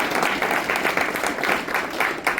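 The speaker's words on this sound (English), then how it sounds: "So please, big round of applause" A crowd applauds steadily, many hands clapping in a dense, sustained patter filling the room.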